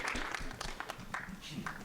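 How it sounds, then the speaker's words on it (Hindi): Audience applause at a film trailer launch event, a short burst of clapping under a busy, noisy room with voices mixed in. "ताली बजाओ।"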